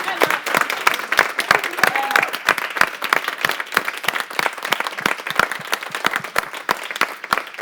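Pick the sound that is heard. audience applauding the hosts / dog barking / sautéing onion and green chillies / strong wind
audience applauding the hosts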